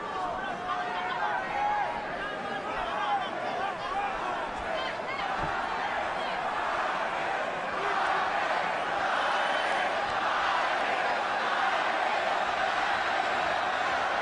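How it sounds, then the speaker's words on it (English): A large boxing crowd at the Pacquiao vs Marquez fight roars and chants in a sustained arena din, with a commentator talking over it throughout. "Judging by the chants, the crowd's about 50-50."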